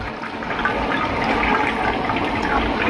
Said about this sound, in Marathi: आता ह्याच्यामध्ये दीड वाटी आणि थोडस एक पाणी घ्यायचंय